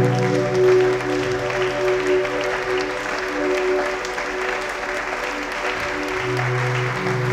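Applause rises as an offering of acclamation during a French-language worship service in a church prayer meeting, a steady sustained wash of clapping lasting several seconds, with sustained tones beneath it.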